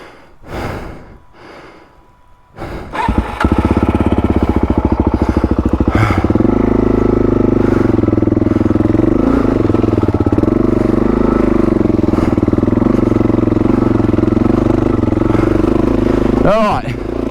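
A Suzuki DRZ400E dirt bike engine fires up after the motorcycle has been dropped, settling into a loud, steady, close idle with a throaty putter that holds for over ten seconds, preceded by heavy breathing and rustling.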